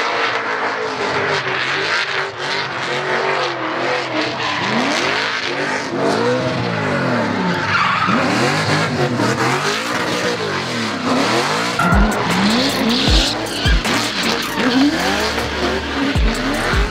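A Corvette with a 418 cubic inch LS-based engine, driven in competition, with engine sweeping up and down through revs and tires squealing and skidding, loud and close, with sharp low thumps late on.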